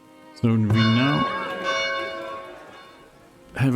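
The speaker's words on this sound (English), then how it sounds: "have a town center with a very loud bell" A very loud town-center bell in the Farthest Frontier game rings out with a long, ringing harmonic tone that slowly fades, then a second strike begins at the end.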